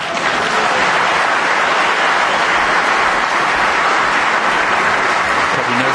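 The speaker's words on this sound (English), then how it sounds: "There's a big round of applause from the other table, just right when he was delivering the shot." Loud, dense applause from the crowd at the other table at the Crucible during World Championship Snooker, a sustained wash of clapping that holds steady throughout.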